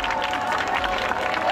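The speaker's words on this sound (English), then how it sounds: "give a round of applause for Aissatou Sise" A crowd applauds at the Albert Academy back-to-school session in Sierra Leone, with dense, steady clapping and crowd noise that stays loud and continuous throughout.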